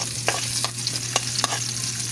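Garlic and onion sautéing in oil for a mung bean stew make a loud, close sizzle, broken by several sharp scraping stirs of a utensil against the pan, with no talking.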